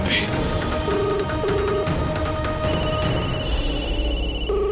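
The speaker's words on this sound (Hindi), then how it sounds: "रिंग तो बज रही है पर" A telephone rings repeatedly in short electronic bursts over a busy, noisy background with other tones layered in.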